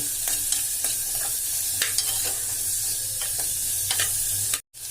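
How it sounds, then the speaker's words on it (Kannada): Curry leaves sizzle and crackle in hot oil for a vegetable pulao while a spoon stirs them, a steady close frying hiss broken by small scraping strokes, cutting off abruptly just before the end. "ಒಂದಿಷ್ಟು ಕರಿಬೇವು ಹಾಕಿರ್ತೀನಿ ಒಂದು ಎರಡರಿಂದ ಮೂರು ನಿಮಿಷ ಎಣ್ಣೆ ಒಳಗೆ ಇದನ್ನು ಹುರ್ಕೋಣ"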